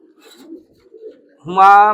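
Bezi and Huma pigeons in a breeder room make a low murmur, then one loud, close, throaty coo near the end.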